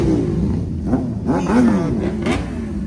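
A truck pulls in with a steady low engine rumble and a couple of swelling revs, fairly loud and close, with no voices over it.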